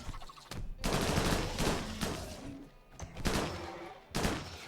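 Rifle gunfire in the video game Rimworld: several sharp bursts of shots and sprays in quick succession, dense and close, with brief lulls between volleys.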